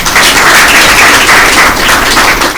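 Loud, thick applause from an audience at a Christmas special Bible quiz event, a close, continuous wash of many hands clapping at once with no pauses.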